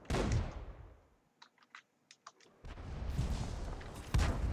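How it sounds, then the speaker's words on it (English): Tank cannon fire in World of Tanks: loud, roaring blasts open and close the stretch, with a quiet gap between them holding a few short, sharp clicks. "3 people are shooting him."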